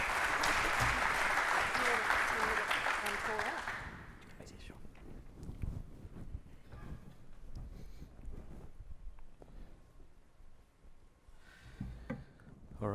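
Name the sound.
audience applause welcoming speaker to the stage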